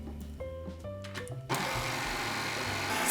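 Coffee bun dough of milk and egg being mixed, a steady whirring mixer motor that switches on partway through and runs loud and continuous after a brief stretch of faint tones.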